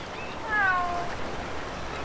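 Cats meow beside a fishmonger in a fantasy role-playing game town: one clear, drawn-out meow, fairly close, over a steady ambient hum of the surroundings.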